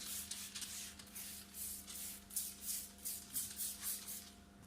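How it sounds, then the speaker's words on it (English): Bursts of a spray bottle misting a car door's window glass during tint fitting, a quiet rhythmic series of short hissing pumps over a steady background hum. "spray the glass."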